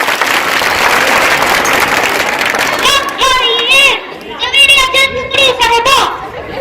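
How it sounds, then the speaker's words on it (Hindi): Clapping from an audience at a school annual function, a dense patter that starts loud and then carries on beneath a voice speaking over it, together with some crowd chatter. "तालियां बजनी चाहिए आपकी"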